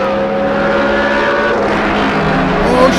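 Loud vehicle engine revving hard while pulling wheelies, a sustained whining tone with rising and falling pitch, close and continuous.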